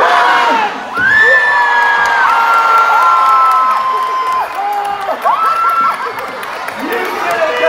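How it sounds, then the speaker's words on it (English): A big outdoor crowd at the 2018 Warrington Christmas lights switch-on bursts into loud, sustained cheering, with children's high shouts and whoops riding over the roar throughout. "Give yourself a massive cheer."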